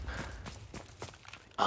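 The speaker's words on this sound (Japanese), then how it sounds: "足音がね、ダブって聞こえるのかな" Footsteps in the Call of Duty: WWII multiplayer game patter faintly in a loose rhythm, soft and somewhat muffled, before a louder burst of game noise at the end.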